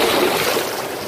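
Water splashing during a swim on a Cape York adventure, heard as a steady, close wash of broadband noise with no voices.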